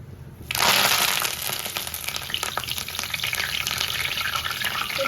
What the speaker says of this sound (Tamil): இப்போ இந்த முருங்கைக்கீரையை வந்து போடுறேன்.